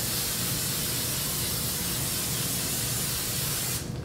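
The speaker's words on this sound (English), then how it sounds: "We're gonna spray this down with some olive oil spray." A continuous close-up hiss of an olive oil aerosol spray coating a muffin tin, steady for several seconds before cutting off abruptly.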